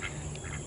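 Ducks quack in a brief, faint burst of a few nasal calls over a low background hum.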